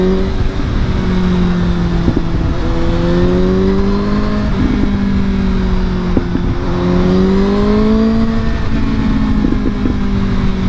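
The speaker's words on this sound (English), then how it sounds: "the reason that I'm going on and off the throttle like that several times is because I'm trying to get the exhaust to pop" A Suzuki GSX-S750 motorcycle engine rises and falls repeatedly as the throttle is blipped on and off, with a few sharp exhaust pops standing out over a loud, close, continuous engine drone.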